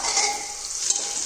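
Chicken fries in a pan with a brief, steady hiss of sizzling oil, moderately close and without any voices.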